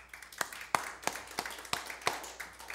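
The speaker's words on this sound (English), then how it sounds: "Give the Lord a hand clap." A church congregation gives a round of hand claps at the close of a service: sharp, separate claps in an uneven rhythm, fairly close and moderately loud, with no talking over them.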